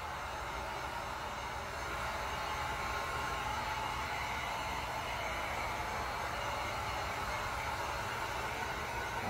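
A steady, loud rush of hot air from a heat gun held close over a Dutch pour acrylic painting to pop air bubbles, running evenly without a break.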